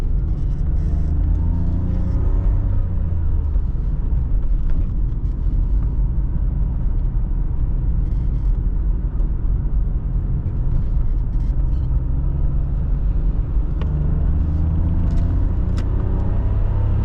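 A 1992 BMW E34 520i with the M50 engine drives along steadily, its low engine drone and road rumble loud and continuous throughout, with no talking.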